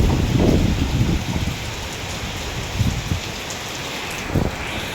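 Storm rain pouring steadily in a dense hiss with gusty wind rumbling in low bursts, close and fairly loud, no voices.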